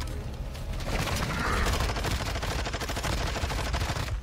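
Sustained rapid gunfire from a WarZone video game zombie fight, loud and continuous rounds dumped into a target with dense mechanical clatter throughout.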